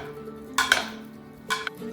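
Potatoes tossed with olive oil in a baking dish: two short bursts of clattering utensil-on-dish clinks, close and fairly crisp, with quiet between and no talking.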